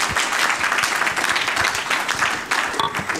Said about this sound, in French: Cher Jean-Michel, vos applaudissements.